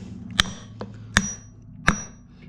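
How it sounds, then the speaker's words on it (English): Three sharp metallic hammer blows on a Mopar driveshaft yoke at an even, unhurried pace, each ringing briefly over a low background hum. "I'm going to just take the hammer and just flat smack it."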